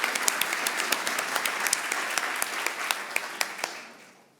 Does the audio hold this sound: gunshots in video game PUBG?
no